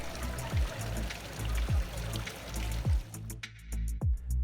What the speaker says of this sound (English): a playful fountain with turtles. Listening to the water is all part of a fun game